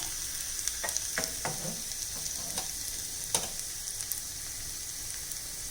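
Sliced onions fry in coconut oil with a steady sizzling hiss, broken by a few clinks and scrapes of a spoon stirring the pan.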